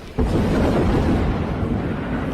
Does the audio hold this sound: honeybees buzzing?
no